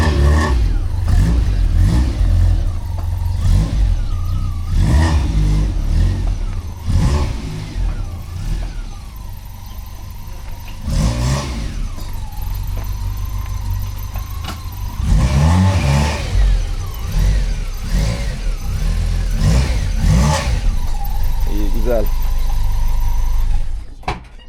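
A car engine hums and revs in short bursts while the vehicle reverses into place beside a village garage, loud and close, rising and easing repeatedly with a steady idle underneath.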